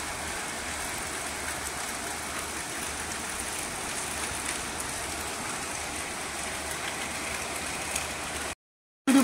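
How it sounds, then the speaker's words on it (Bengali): Steady rain falls on a damp, gloomy afternoon as a continuous broadband wash, with a low engine-like rumble beneath it that ends in a brief silence near the close. "আকাশটার অবস্থা কোথায়, যখন তখন বৃষ্টি নেমে যাচ্ছে"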